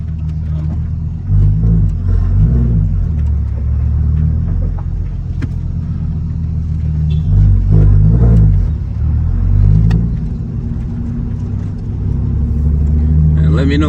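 A turbocharged car engine rumbles steadily from inside the vehicle, with low drone and occasional revving swells as it drives along; no one speaks.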